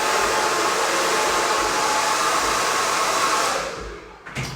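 A hair dryer blows steadily while hair is being blow-dried at home, a loud, close, rushing whoosh that holds for several seconds, then winds down and cuts off with a faint clatter.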